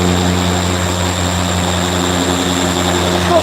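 A Halfords machine polisher spins freely with no load, a loud, steady motor whine with a strong harmonic hum that holds level throughout without talk.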